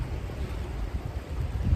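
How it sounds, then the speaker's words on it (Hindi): Strong wind blowing outdoors at Kagbeni along the Gandaki river route to Muktinath, a steady low rumbling roar buffeting the microphone with gusts swelling toward the end, no voices. "फिर यहाँ पे हवा चल रही है, बहुत ही तेज हवा है।"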